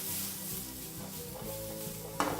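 Ham and mushroom sandwich fillings frying in a pan over medium-low heat give a steady close sizzle, with a brief louder clatter near the end as the pan is tossed.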